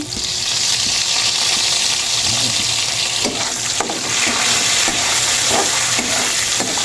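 Boktit, or pig stomach, sautés in a hot pan with a loud, steady sizzle and crackle. Occasional clinks and scrapes of stirring break through the constant frying hiss.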